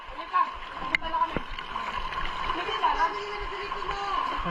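A strong river current rushes and splashes steadily through the whole stretch, with people talking and calling out over the water.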